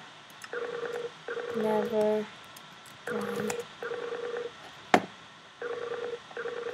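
A telephone rings in a Minecraft Skyblock game as repeated bursts of electronic tones with short gaps between them. A brief sharp click cuts in, and a voice speaks briefly over the fairly quiet ringing.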